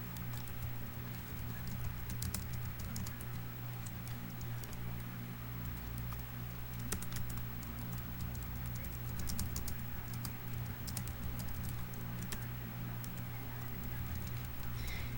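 Continuous computer keyboard typing while writing a will in the game Town of Salem, a rapid, fairly quiet patter of key clicks over a steady low hum, with no pauses.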